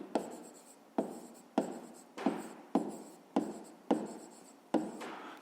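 A pen writes on paper during a math exercise, making about eight close, evenly spaced strokes, each starting with a sharp scratch and trailing off, in a quiet room.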